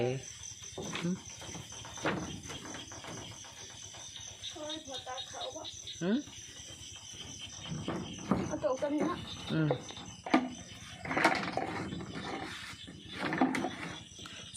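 Frogs croak at night in a rice field beside a small field hut, a steady chorus of calls under close conversation and background chatter.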